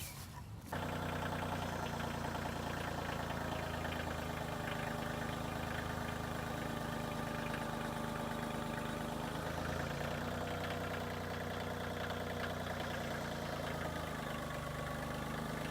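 A tractor's diesel engine starts up and runs steadily, a loud continuous rumble that holds at the same level throughout.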